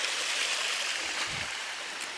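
Water rushes and gurgles over rocks at a waterfall near Puerto Vallarta, Mexico, in a steady, full hiss, with no voices.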